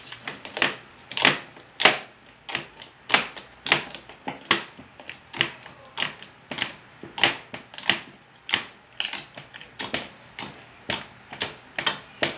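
Homemade slime worked by hand, giving repeated sharp clicks and pops at a fast, uneven rhythm that continues alone and close up.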